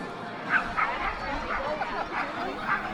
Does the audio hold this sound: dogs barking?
yes